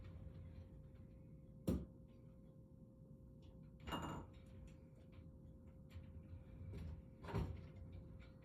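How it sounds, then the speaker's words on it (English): Three short knocking thumps of a door being shut, spaced a couple of seconds apart, over a steady hum inside a hen house. "We'll close that door and get a better look."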